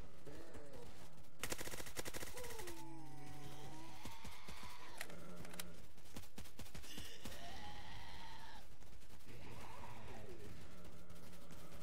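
Rapid, dense bursts of machine gun fire from the Roblox zombie game Zombie Uprising rattle on with little pause, mixed with whistling, warbling game effects and tones.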